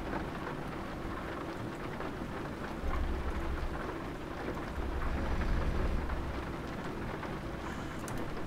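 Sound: rain and thunder in Euro Truck Simulator 2 video game

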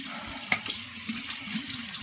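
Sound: shower water running

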